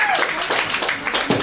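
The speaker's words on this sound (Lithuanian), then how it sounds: "Aplodismentai!" Studio audience applause at a televised quiz show, a dense steady patter of many hands clapping throughout.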